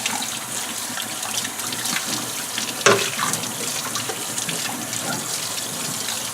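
Tap water runs steadily over a goldfish tank cover being rinsed by hand, a continuous close splashing wash with one brief louder clatter partway through.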